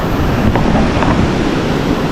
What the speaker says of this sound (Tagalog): may ulan lang at saka hangin